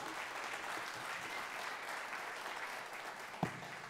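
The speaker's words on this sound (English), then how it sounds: "Let's give them a round of applause" Congregation applauding the student worship team at a church service, a steady wash of clapping from many hands held at an even level, with one sharp louder clap near the end.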